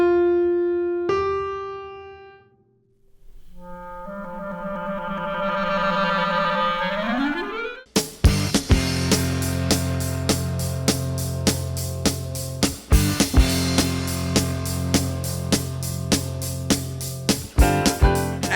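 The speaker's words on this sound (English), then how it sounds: "And the difference of a whole step sounds like this." Two musical pitches a whole step apart ring out cleanly, first as separate sustained tones, then followed by a fuller, louder passage of struck chords pulsing in a steady rhythm.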